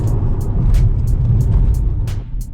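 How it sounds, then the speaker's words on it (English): A Mercedes engine with a misfire runs while driving, a loud, close, rumbling drone broken by a regular rhythm of short bursts roughly every third of a second. "Yeah, it's misfiring."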